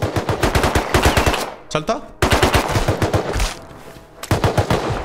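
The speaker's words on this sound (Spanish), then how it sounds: "Disparan, ¿eh?" Rapid automatic gunfire in Rust, loud bursts of closely spaced shots broken by short pauses, with a voice speaking briefly during a gap.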